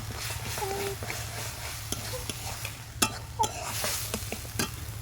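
Chira (flattened rice) and green pea filling stirred and frying in a pan, a steady sizzle with a low hum beneath and scattered scraping spoon clicks and knocks against the pan.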